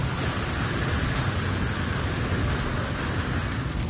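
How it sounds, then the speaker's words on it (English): Heavy storm in the video game No Man's Sky: a steady, dense roar of rain with low rumbling underneath, continuous and loud throughout. "There's a heavy storm coming out right now."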